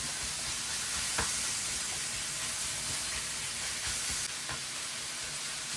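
Ground turkey sizzles and frys steadily in a hot pan, with a few sharp scraping knocks as a wooden spoon breaks the meat apart; the hiss is close and continuous, and no one speaks.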